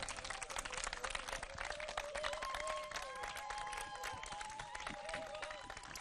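A studio audience applauds to welcome a teacher onto a live French lesson broadcast, a steady, dense patter of clapping mixed with faint crowd noise and a tonal music bed.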